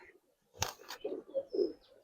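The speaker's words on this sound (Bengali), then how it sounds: "এইগুলা হইলো ভাই বাসায় ভিটার কবুতর" Giribaz silver bezi pigeons coo in a loft. Soft, low, rounded coos come close together after a brief sharp knock and rustle, with a faint chirp high above.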